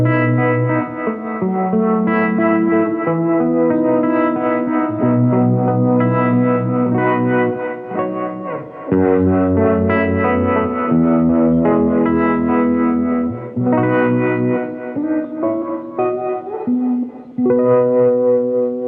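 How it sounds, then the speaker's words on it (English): A guitar played through a Source Audio True Spring Reverb pedal with tremolo, sustained chords and notes carrying a pulsing wobble and a washy spring-reverb tail, loud and continuous with short breaks between phrases. "So now we have spring and tremolo in one box"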